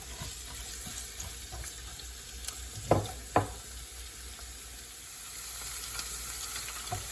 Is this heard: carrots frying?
yes